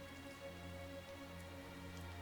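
Rain falling in Tales of Zestiria, a steady even patter across the whole stretch, faint and continuous, with a low sustained musical drone running beneath it and no voices.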